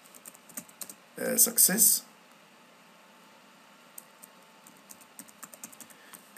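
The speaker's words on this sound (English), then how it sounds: "So I will go here and type student" Keys clatter on a computer keyboard during a Microsoft Word lab, with soft scattered keystrokes at the start, a short spoken word in the middle, then light, sparse tapping continuing near the microphone.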